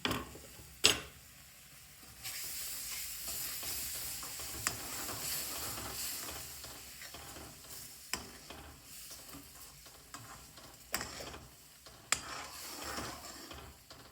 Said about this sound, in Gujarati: તો આપણે સારી રીતે મિક્સ કરી દઈશું